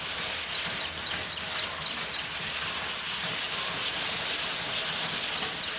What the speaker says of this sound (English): We've got plenty of high build on there so we can sand.